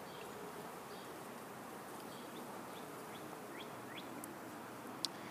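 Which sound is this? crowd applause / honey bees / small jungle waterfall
honey bees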